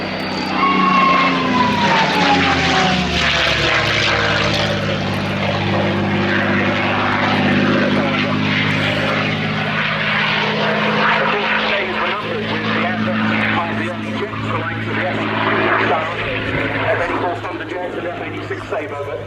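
A P-51 Mustang piston-engine propeller fighter flies past at the Royal International Air Tattoo at Fairford, its loud, steady engine drone and rising then falling pitch filling the whole stretch while a commentator talks over it on the public address.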